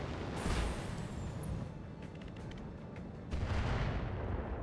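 Weapon fire slams into a mech in the BattleTech mod RogueTech, with two heavy bursts of booming impacts and crackling shots separated by a quieter stretch of sharp metallic clicks.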